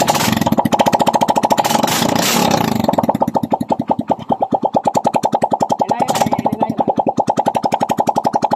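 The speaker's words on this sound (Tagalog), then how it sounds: "umandar na kanyang motor" A Yamaha Mio i 125 scooter engine with an oil-burning fault runs close and loud, its rapid pulsing putter steady, briefly revving harder near the start and again later.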